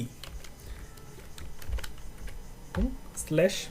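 Sparse, faint keystrokes on a computer keyboard while HTML paragraph-tag code is entered, a few scattered clicks under room noise, with a voice speaking briefly toward the end.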